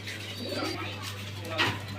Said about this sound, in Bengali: দর্শক, এখানে দেখতে পাচ্ছেন একজোড়া কিং কবুতর, বিডি কিং বলে এটাকে।